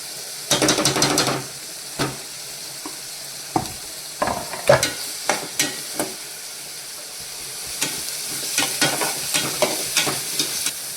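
Green chillies and curry leaves fry in a pan, crackling and sizzling up close, with sharp bursts of spattering and a few utensil knocks.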